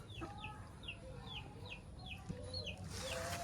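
Chickens cluck in a quick repeated series at moderate distance, with a brief scuffle of louder squawks toward the end.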